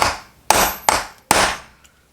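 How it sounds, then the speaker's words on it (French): A hammer taps a Puch Maxi moped clutch part in a workshop, four sharp metallic strikes, each ringing briefly before fading, heard close and alone. "je tape un petit coup pour commencer"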